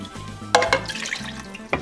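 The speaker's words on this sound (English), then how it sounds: "I am going to add a little bit of water just to clean out that can because this is thick" Water splashes into a can of thick tomato sauce, with a few clanks and a short sloshing pour rising out of quiet kitchen background noise, and no voices.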